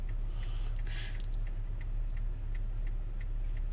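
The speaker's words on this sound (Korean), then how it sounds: "깜빡이 소리인가 뭔 소리지요?" A car turn signal ticks in an even, regular rhythm, soft clicks repeating steadily over a low hum of the moving vehicle.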